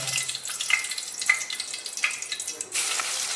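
Bay leaf dropped into hot oil on a lowered gas flame sizzles and crackles steadily in a village kitchen, with a few sharp pops and a brief scrape partway through.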